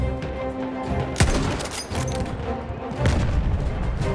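Artillery and gunfire in the World War 1 shooter Battlefield 1 at Cape Helles: dense rolling fusillade with heavy booms and sharp crashes, loud and continuous without a break.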